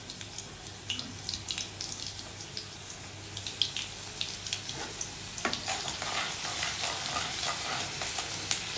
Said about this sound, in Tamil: லைட்டாக ஆயில் கொதிச்சிட்ட அப்புறமா சின்ன வெங்காயத்தை வந்து அதில் ஆட் பண்ணிடலாம்.